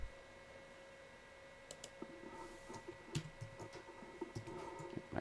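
Quiet typing on a computer keyboard, with scattered light clicks building into a steady run of keystrokes and a tab key press near the end, heard close in a calm room with no talking.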